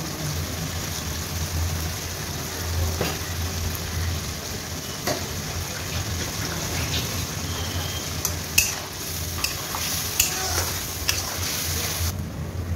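Spice masala with added salt is stir-fried in a pan. A dense, continuous hiss runs throughout, with occasional spatula scrapes and metallic clinks and no voices.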